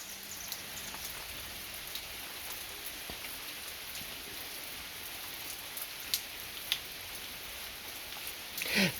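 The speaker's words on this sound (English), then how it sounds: "And it rains." Continuous rain falling close by, a dense hiss with occasional louder drops hitting a surface.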